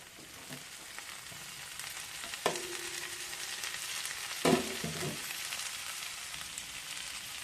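Boiled broad beans tipped into a pan of fried leafy greens, sizzling and crackling steadily throughout, with two sharper bursts as ingredients hit the hot oil or are stirred.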